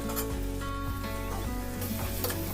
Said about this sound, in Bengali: তারপরে তেলটা গরম হওয়ার পরে পেঁয়াজ ছেড়ে দিতে হবে। তারপরে ভালোভাবে নাড়তে হবে যাতে পুড়ে না যায়।